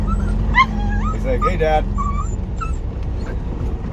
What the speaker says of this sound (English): he kind of looks up and he walks over to me and he starts barking